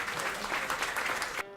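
Dense applause from a theatre audience at a literary prize ceremony, welcoming actor Bernard Ménez, steady and full for over a second before cutting off abruptly.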